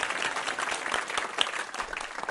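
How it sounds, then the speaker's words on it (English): A studio audience applauds at a comedy show, with brisk, even clapping from many hands at moderate volume through the whole moment. "I'm going to applaud myself as well."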